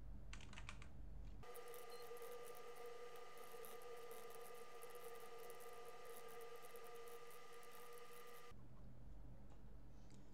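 Steady typing on a computer keyboard while entering text by hand during a Windows Server 2022 install on a Hetzner dedicated server, with continuous key clatter over a constant machine hum that runs for most of the stretch.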